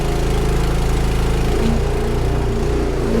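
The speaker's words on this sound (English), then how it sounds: "You can just tell with the sound of the engine that it's just nearly empty." A farm engine runs loud and steady at close range while a water bowser tank is emptied, a constant throbbing drone with a faint rise in tone partway through and no voices.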